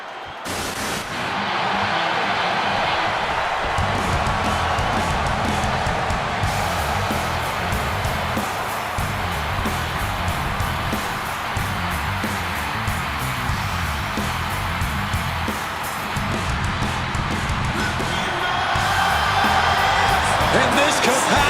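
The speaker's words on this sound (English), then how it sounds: "this capacity crowd just exploded" A capacity arena crowd in the WWE 2K26 wrestling game roars loudly and continuously at a CM Punk versus Seth Rollins match, a dense, unbroken wall of cheering with no talk.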